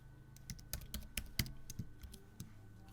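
Computer keyboard keys click close up as a spreadsheet formula is typed, about a dozen crisp, quiet keystrokes in an uneven rhythm with short pauses between.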